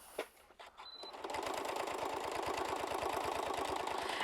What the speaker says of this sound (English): I'm going to hit my lock stitch, and I'm going to start to tie my ends off